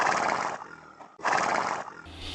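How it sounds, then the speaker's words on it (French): A comedic sound-effect horse whinny rings out twice, each a loud, shaky neigh about half a second long, separated by a brief gap, and followed by a faint low rumble at the end. "Jacques, je viens à peine de parker mon cheval."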